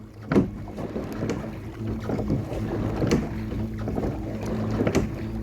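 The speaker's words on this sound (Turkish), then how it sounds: "Hem motorla gidiyoruz şu anda" A fibreglass boat cruises near Kalem Island under a Haibo electric outboard motor, giving a steady low hum with water and wind noise around it and occasional knocks.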